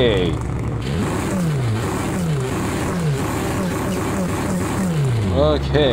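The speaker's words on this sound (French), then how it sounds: "On va démarrer un petit peu la voiture quand même." In a sim racing video game driven with a sequential shifter, a car engine revs repeatedly in rising, falling sweeps that repeat upshift after upshift, loud and continuous from start to end.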